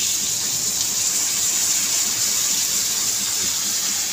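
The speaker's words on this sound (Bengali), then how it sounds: "জল দিয়ে দিচ্ছি" Water pours steadily into a cooking pot of vegetables being boiled, a continuous close gushing splash that runs evenly without a break.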